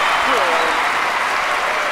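Crowd applause in a London 2012 video game during a 25 m rapid-fire pistol shooting event, a steady broad wash of clapping filling the whole two seconds, with faint commentary-like tones underneath.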